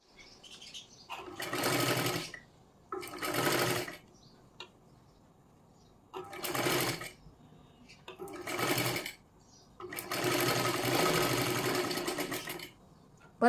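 A sewing machine stitching a size 38 princess blouse runs in five close, whirring bursts of a few seconds each, separated by short pauses, with no talking.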